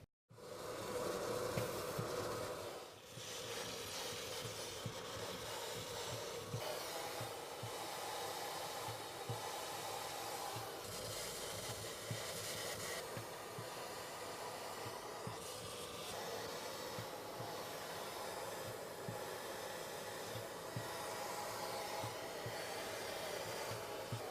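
A vacuum hoovers loose powder off a freshly 3D printed figure, a steady broadband whooshing drone that runs almost unbroken for the full stretch, close and fairly loud, with a brief dip near the start.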